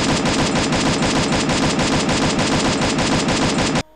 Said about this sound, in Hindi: तो अब हम M4A1 को फायर करने वाले हैं